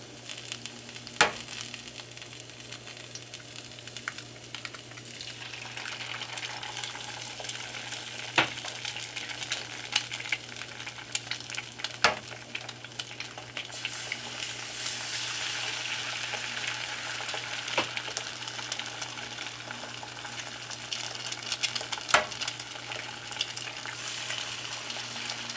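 Eggs cracked into bell pepper rings frying in a pan give a continuous close sizzle that swells gradually, punctuated by several sharp spatula or utensil clicks, with a low steady hum beneath.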